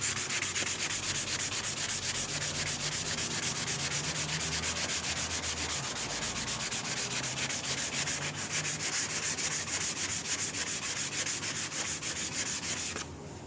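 Steady power sanding of a cherry wood cheese board, a continuous raspy abrasive rub held close and loud for the whole stretch with no talking, ending in a slight drop at the very end.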